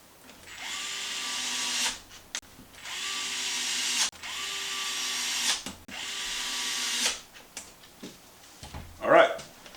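Power tool driving tapered screws into a skid plate during control arm installation: three long, loud whirring bursts with brief pauses between them, then a short clatter at the end.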